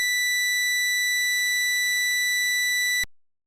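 Steady pure sine test tone, loud and unwavering, with faint higher harmonic lines, holding for about three seconds and then cutting off abruptly into silence.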